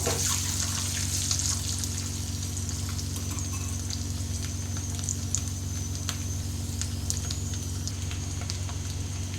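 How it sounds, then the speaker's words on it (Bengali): Eggs frying in oil in a pan over medium heat, a steady close sizzle with faint crackles and occasional pops running throughout, no voices. "তো এইভাবে আমি ডিমটাকে একটু লাল লাল করে ভেজে নেব।"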